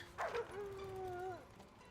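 A puppy gives a short yip followed by a long, wavering whimpering howl, close and moderately loud over a low background hum.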